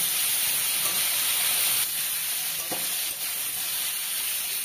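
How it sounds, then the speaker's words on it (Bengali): Water lily stems stirred into a simmering curry, giving a continuous hissing sizzle with a brief scrape of the spoon partway through and no talk. "দেখো শাপলাগুলো দিয়ে একটু নেড়ে নেব, খুব বেশি নাড়া লাগবে না।"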